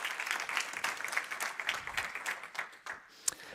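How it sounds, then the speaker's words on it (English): Audience applause at a table tennis health congress session, a soft, steady patter of many hands clapping, fairly distant and quiet, thinning toward the end. "So big applause to France."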